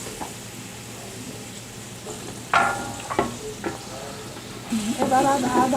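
Onion paste being added to a pan of fried garlic for a Sylheti beef trotter dish, a low sizzle broken by a few sharp spatula clatters, then busier scraping toward the end.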